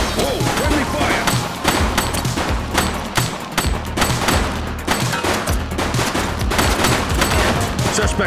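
Gunfire in the police video game The Precinct: loud, continuous rapid volleys of shots with crashing impacts that keep going without a break, and shouted voices come through in places.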